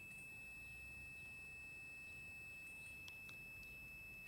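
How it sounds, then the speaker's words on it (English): A Buchla 208 synthesizer under troubleshooting gives off a faint, continuous high sine beep that holds unchanged throughout, with a few tiny clicks. "It's just a continuous beep."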